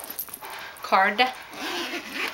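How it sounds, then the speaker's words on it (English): A small zipper on a compartment of a Chanel bag gives a brief, close rasp, partly under a voice. "Zipping that up."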